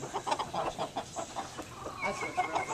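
A mother hen and other chickens cluck repeatedly nearby in a steady run of short notes that get busier toward the end, with faint background noise.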